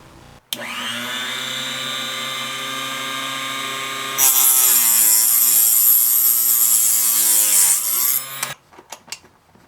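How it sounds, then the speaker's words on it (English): A power tool whines loudly and steadily while stripping paint from parts, rising to a harsher, higher grinding pitch midway, then stops, followed by a few clunks. "Just going to take the paint off and we'll do the finish sanding later"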